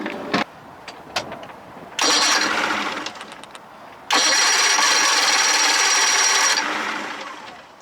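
A 60 hp Johnson outboard motor gives a few short cranking bursts, then catches and runs loud and close for a couple of seconds before winding down and fading out.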